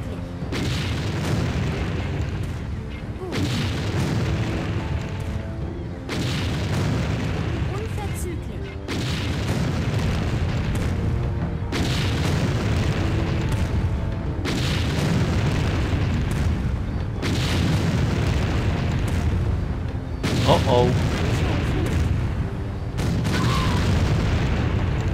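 Heavy booming blasts from bombers in the strategy game Empire Earth, repeating at a steady rhythm of dull thuds over a constant rumbling backdrop, loud and sustained throughout, with voices talking over it.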